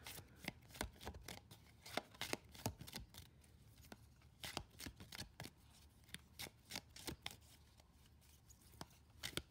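Lenormand card deck being shuffled by hand, a run of crisp riffling bursts and soft slaps in irregular rhythm, close and quiet.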